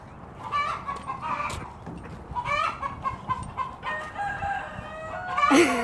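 Chickens cluck and a rooster crows loudly inside a chicken house, with repeated overlapping calls and a sharp crow near the end, with no talking over them.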